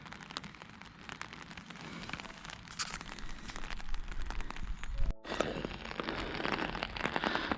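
Steady rain pattering on surfaces during a rainy walk near a river and bridge, a continuous close hiss of drops, with a brief dropout and a slight shift in tone partway through.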